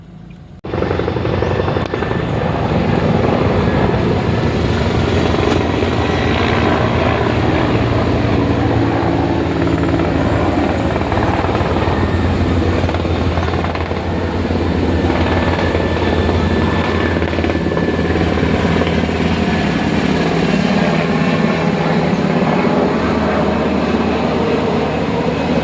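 A helicopter flies overhead above storm-damaged Liloan, giving a loud, sustained rotor and engine roar that stays strong and close throughout.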